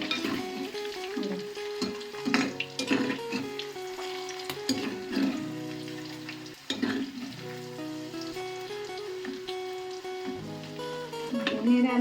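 Chopped green chillies sauté in hot oil in a pan with steady close sizzling and occasional stirring scrapes, continuous throughout with no talking.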